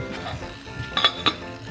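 Pot lid set down onto a pot of simmering celery, onion and garlic, giving two sharp metallic clinks close up over a low kitchen background.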